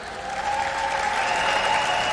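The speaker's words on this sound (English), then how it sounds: "please give a round of applause for the president of the Miss Universe organization, Paula Sugar" Dense, steady applause from a large audience at the 70th Miss Universe 2021 preliminary competition, greeting the president of the Miss Universe organization; loud and sustained throughout, with no voices standing out.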